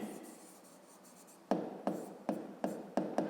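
Pen writing on paper up close, a series of about six quick scratchy strokes in a short rhythmic run after a quiet stretch.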